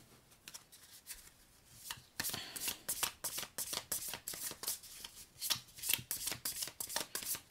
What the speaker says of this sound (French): va essayer de tirer 3 cartes pour voir ce que ça donne